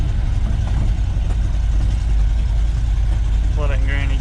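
A 1973 Ford F-250 truck on military tires drives in low granny gear through snow, its engine a loud, steady low rumble close by, with a voice speaking briefly near the end.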